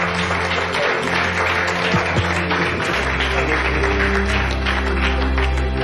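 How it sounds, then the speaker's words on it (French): A studio audience on a travel race game show applauds in a dense, continuous wash of clapping, with a steady low hum running underneath and growing stronger toward the end. "Est-ce qu'on peut vous applaudir?"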